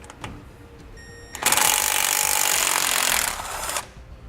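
A power tool spins a 10mm socket to pull the brake cable bracket stud on a 2016 Chevrolet. A few light clicks come first, then one loud, steady mechanical whir lasts a couple of seconds and cuts off.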